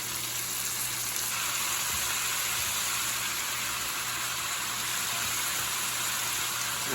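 Ground chuck beef, 80/20, sizzles steadily in a hot pan for beef lasagna, a dense, even frying hiss that holds close and constant throughout with no talking.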